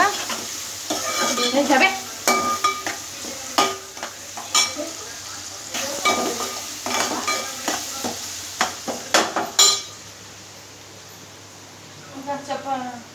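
Onions fry in a pan for mango curry while a spoon stirs, with repeated scraping clinks over a soft sizzle and a brief voice speaking.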